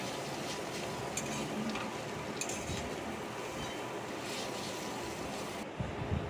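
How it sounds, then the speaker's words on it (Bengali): Grated mango being stirred in a pan while cooking into a sweet murabba gives a steady soft scraping, with faint clinks of a utensil against the pan throughout. "এই যে গলে যাচ্ছে আমগুলো নাড়তে নাড়তেই"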